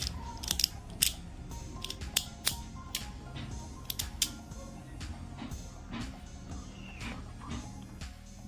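A PVC-pipe remake of the Beyblade Dranzer S being fitted with its driver gives a series of sharp, close plastic clicks and snaps at irregular intervals, bunched near the start, over a quiet room background.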